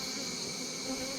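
Honey bees buzz steadily and close during a hive inspection, a dense, continuous drone with no voices.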